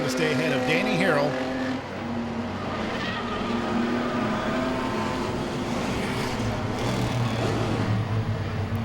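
Enduro race cars roar around Langley Speedway, a dense continuous engine drone with rising and falling pitch as cars battle through the turns, loud and steady under a commentator's voice.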